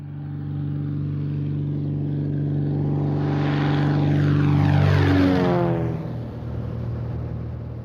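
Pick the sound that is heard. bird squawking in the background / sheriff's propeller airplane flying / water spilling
sheriff's propeller airplane flying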